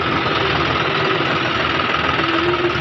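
A John Deere 5405 tractor engine pulling an 8-foot rotavator through a farm field, a loud continuous diesel drone with a steady knocking rumble, close and unbroken throughout.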